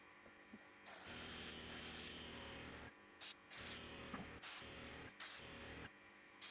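An airbrush spraying paint onto a large handmade mackerel fishing lure, heard as quiet hissing bursts that start and stop repeatedly over a faint background hum.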